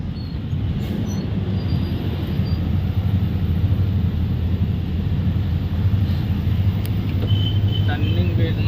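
Steady, loud rumble of loaded trucks grinding along a hilly forest road in heavy traffic, a continuous low engine drone filling the whole stretch with no clear pauses.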